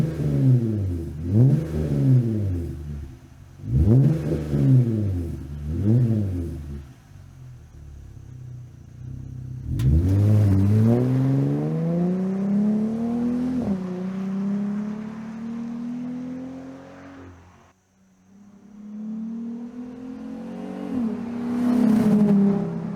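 A Jeep Gladiator fitted with an MBRP dual-exit 2-1/2 inch off-road cat-back exhaust revs in repeated rhythmic bursts, then accelerates hard with a rising, loud engine growl, eases off briefly, and pulls away again.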